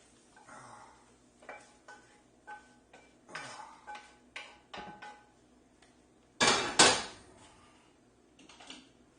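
A pot and pan are handled while cooking chicken casserole, giving scattered metallic clanks and knocks at a moderate distance, with one louder rattling clatter near the end.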